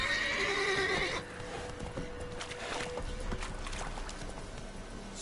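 Roach, a horse in Witcher 3, lets out a loud whinny over the first second, followed by softer hoof clops and rustling movement nearby.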